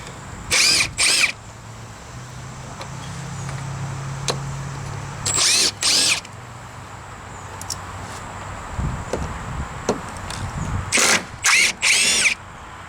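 An impact driver drives screws into deck boards, firing in short, loud, rattling bursts, two quick ones, then a pair a few seconds later and a final cluster, with quiet pauses between.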